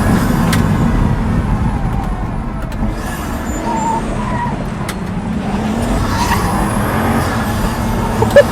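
A Pagani Huayra supercar is driven hard on Italian mountain roads, its engine a steady close roar with rising and falling revs and faint tyre noise throughout.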